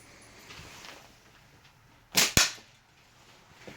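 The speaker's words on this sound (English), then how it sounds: "Let's shoot one more time like that" A Simple Shot Scout slingshot fires once, a sharp double snap of band release and impact close by, standing out briefly from quiet surroundings.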